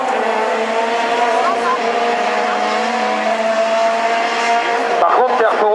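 A Renault Twingo rallycross car in the Super 1600 class at Essay drives hard on track, its engine droning loud and steady throughout with rising revs near the end, under a commentator's voice.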